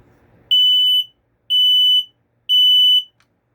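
A Kidde 0916 smoke alarm with a hush feature sounds three loud, piercing, high-pitched beeps, each about half a second long, separated by equal short silences, close up.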